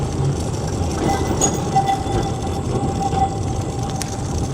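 A tram rumbles past in the street with a steady, loud rolling noise and faint squeals of wheels on rails.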